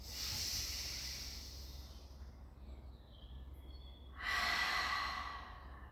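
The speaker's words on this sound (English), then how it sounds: "Inhale, let the belly rise. Out breath, release." Deep Pilates breathing, close and soft: one long airy exhale fades out, a quiet pause follows, and then a second strong breathy release rushes out, with no speech.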